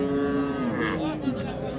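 A Sahiwal cow at Raniganj cattle market in Dinajpur gives one long, loud, close moo lasting nearly two seconds, with faint market bustle behind it.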